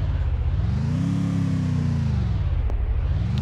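A video game car engine drones low and loud, its pitch rising, holding, then dipping and climbing again like a rev, with no talking over it.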